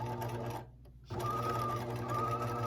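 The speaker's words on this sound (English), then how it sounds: "I'm just stitching, you know, fairly close to that other seam." A sewing machine runs steadily while stitching a side seam of a garment with sleeves, back and front, pausing briefly in the middle before resuming its fast, even whir close by.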